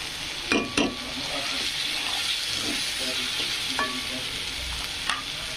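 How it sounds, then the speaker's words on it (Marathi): Spices for an egg curry fry in a pan with a steady close sizzle, punctuated by a few sharp scrapes and clinks of stirring. "खूप मसाले छान फ्राय झाले त्याचा"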